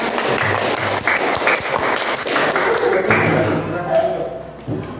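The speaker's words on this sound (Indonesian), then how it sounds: "tepuk tangan untuk kelompok." Classroom applause for a student group after a presentation: a dense, steady patter of clapping from many hands that lasts the whole stretch, mixed with voices.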